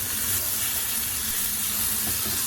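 Steady sizzle and hiss of Kerala-style pepper chicken being stirred in a pan after cooking, a continuous close frying texture with faint scraping and no voices.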